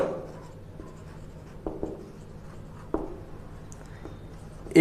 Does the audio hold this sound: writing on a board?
yes